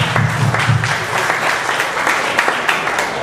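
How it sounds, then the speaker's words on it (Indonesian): An indoor audience at an alumni association pre-congress meeting claps steadily throughout, a dense sustained patter of many hands with no voices over it. "kita harus memberi aplaus untuk Bang Bagdian"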